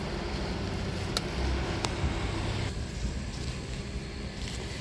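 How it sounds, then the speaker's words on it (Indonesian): A lawn mower runs nearby in a home vegetable garden, a steady droning engine hum that stays loud and constant throughout, with a couple of brief sharp clicks. "Lagi ada mesin potong rumput, agak berisik ya teman-teman"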